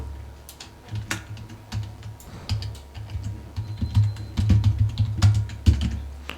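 Quick bursts of keystrokes on a computer keyboard, irregular clicks and taps clustering into short runs, close and fairly quiet with no voices.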